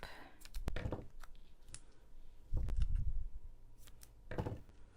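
Craft scissors snipping while making greeting cards: a few crisp, separate cutting snips and clicks close up, with short quiet pauses between them and no talking.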